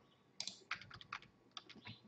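Computer keyboard bracket keys are tapped during photo editing, giving a quick series of about eight sharp, light clicks in an uneven rhythm, quiet and close, with no speech.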